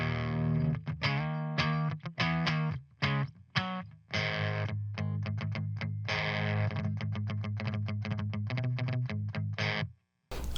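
Electric guitar played through a 50-watt Marshall Vintage Modern KT66 power amp, clean tone, with a series of strummed chords and sharp rhythmic stabs separated by short gaps, loud and close, ending in silence.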